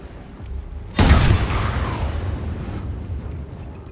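In Baldur's Gate 3, casting the Booming Blade spell sets off a single sharp, loud boom, followed by a rumbling roar that slowly fades over a few seconds, with no talk over it.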